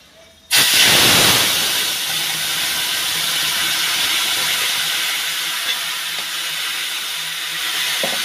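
Whole five-spice seeds and pineapple chutney hit a hot pan in a sudden loud sizzle that starts half a second in, then settles into a steady, close, hissing frying sound with no talk.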